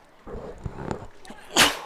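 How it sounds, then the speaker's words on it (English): A sneeze from a baseball radio announcer in the booth during a collegiate league game, a sharp bright burst near the end following faint background crowd murmur. "I had to sneeze."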